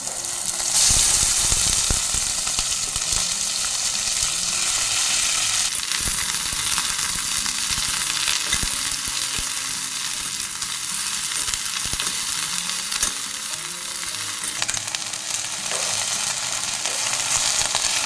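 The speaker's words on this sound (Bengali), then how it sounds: "এবার এই কড়াইয়ে তেল দিয়ে দিচ্ছি এবার এই তেলের মধ্যে ভেন্ডিগুলো একটু ভেজে নেবো" Okra (bhindi) frying in oil in a wok, a loud, steady close sizzle that runs throughout with occasional stirring scrapes, no voices.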